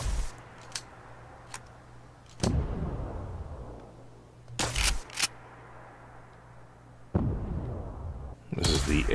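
Small grenades fired from the X12 Plasmacaster in Fallout 4, heard as several sharp, loud bursts and pops at irregular intervals over a low background hum, with some firing close together in quick pairs.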